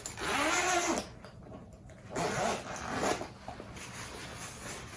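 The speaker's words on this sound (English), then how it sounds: "Got the old zipper action happening." Zipper on the pocket of a guitar gig bag, pulled in a few quick raspy strokes with pauses between, close and fairly loud with no talking.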